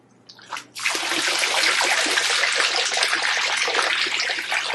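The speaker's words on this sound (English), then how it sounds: "Your waterfalls will operate from this button right here." The waterfall feature of a Bullfrog Spas M Series hot tub starts up after a brief click and then pours steadily, a loud, constant splashing rush of running water.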